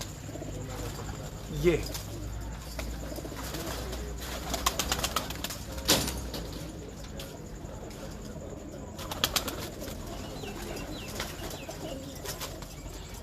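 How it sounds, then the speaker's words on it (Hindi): Breeder pigeons coo and flap their wings in a loft, with soft repeated calls and sudden bursts of fluttering close by, while someone speaks Hindi-Urdu in the background. "ये ब्रीडर कबूतर हैं सारे, बेहतरीन कबूतर"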